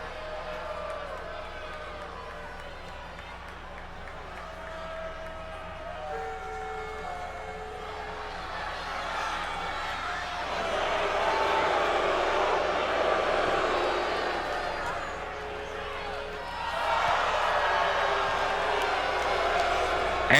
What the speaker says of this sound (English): You love to see the bad guys get booed like that